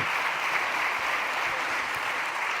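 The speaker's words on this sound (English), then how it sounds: "So this is your round of applause." An audience at a leadership and innovation forum gives panelists a loud, sustained round of applause, a thick continuous roar of clapping from many hands with no pauses.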